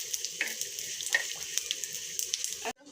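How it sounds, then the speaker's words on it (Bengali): Beef liver sizzles and fries in a pan as it is stirred, a close, steady hiss broken by scraping clinks of the utensil, ending abruptly. "আবার এটা একটু নেড়ে চেড়ে কষিয়ে নিচ্ছি"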